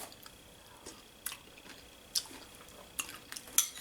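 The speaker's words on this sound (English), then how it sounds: "You can hear those wonton noodles. Just give it a nice crunch." Crunchy fried wonton noodles in an egg dish being eaten, giving a few sparse, close crunches and soft utensil clicks against a quiet background.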